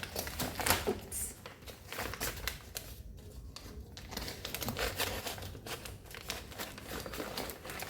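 Blade or cutter slicing through a parcel's packaging for a craft haul, with close crinkling and tearing of plastic and paper in irregular bursts, fairly quiet throughout.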